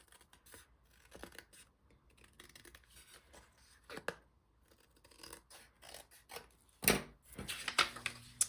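Scissors trim excess paper on a handmade card with quiet, intermittent snips and rustles, a little louder toward the end.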